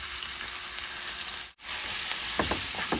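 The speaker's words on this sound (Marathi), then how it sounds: "ही डाळ भिजत घालून ठेवलेली मुगाची ती घालूया" Soaked moong dal frying in oil with asafoetida and turmeric, a steady close sizzle with a brief dip in the middle, then a few stirring scrapes near the end.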